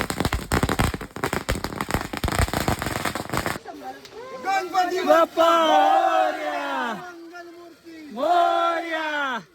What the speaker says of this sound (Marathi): तीश बॉम्ब आणि सगळे फटाके बिटाके फोडायला सुरू झालेले आहेत